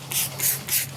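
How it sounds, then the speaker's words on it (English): Three quick, close bursts of a trigger spray bottle of tire cleaner hiss out in an even rhythm onto the tires of a black Ford F-150 truck. "Now we're gonna spray the tires."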